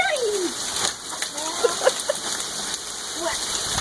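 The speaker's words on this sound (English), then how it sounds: "Look at the hail on the floor." Hail pelting down in an August storm, a steady hiss of falling ice with scattered splashy hits on the ground and a few bird chirps mixed in, fairly close.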